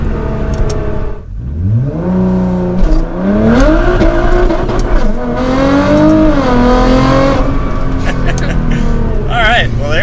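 A 2022 BMW M4 Competition or R35 Nissan GT-R launching under launch control: a loud, close engine roar that climbs through rising revs with a brief dip at a shift, sustained hard acceleration throughout, and voices faintly audible underneath.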